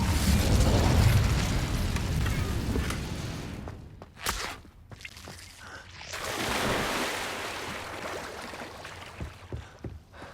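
An Incendio fire spell cast in Hogwarts Legacy opens with a loud, roaring whoosh that fades after a few seconds. Sharper pops and bursts follow, with a second swelling rush midway and scattered clicks and steps.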